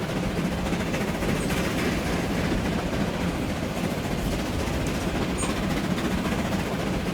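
A train in Transport Fever 2 rumbles steadily along the rails, a continuous low roar with faint rhythmic clatter, close and unbroken throughout.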